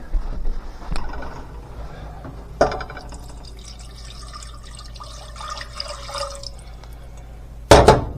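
About one and a half cups of water pour into a cooking pot for an herbal brew: a steady splashing fill lasting a few seconds, with sharp clunks of the vessel before and after, and no talking.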